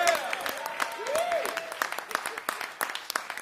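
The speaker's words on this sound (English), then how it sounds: "How about a round of applause for Mr." Applause from the crowd at a live blues induction ceremony at The Falcon, scattered sharp claps with cheering under a sliding whistle-like tone, trailing into sparser claps by the end.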